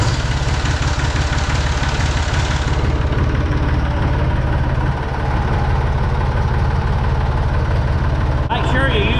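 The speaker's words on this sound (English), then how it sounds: "I'm going to go ahead and crank the tractor" A Massey Ferguson 245 tractor engine idles steadily, a loud, close, even diesel rumble that runs throughout without a break.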